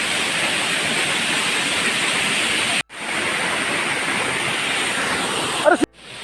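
A forest-fed waterfall roars in a steady, loud, close wash that cuts out briefly twice.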